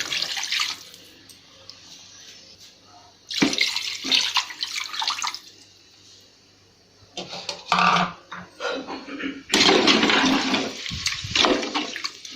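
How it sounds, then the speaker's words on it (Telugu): Water from a cup poured into a pot of rice for chicken biryani, coming in several bursts of splashing and gurgling, with short quiet gaps between pours. "ఇప్పుడు దీంట్లో నేను వాటర్ని యాడ్ చేస్తున్నానండి"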